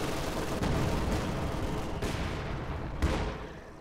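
Bursts of machine gun fire crackle in a Company of Heroes 2 battle, with dense overlapping shots, loud and sustained, broken by sharper cracks around the midpoint and near the end.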